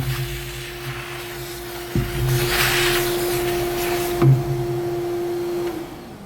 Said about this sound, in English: So again, real quick vacuum.